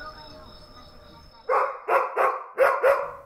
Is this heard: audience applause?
no